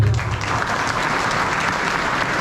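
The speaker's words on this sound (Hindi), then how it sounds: "सब लोगों के लिए जोरदार तालियां बजाओ" A crowd at a community gathering claps loudly and continuously, a dense even wash of applause throughout.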